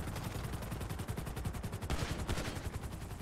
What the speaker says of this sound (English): Ito may kalaban na shotgun sa akin, shotgun.